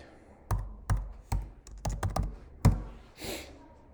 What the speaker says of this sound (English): So to do that, we're going to type in Autodesk.